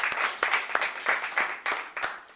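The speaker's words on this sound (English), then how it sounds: "let's give a round of applause just to welcome our panel" A campus audience claps to welcome a student panel, a short burst of close, uneven hand claps with distinct individual strikes, no voices over it.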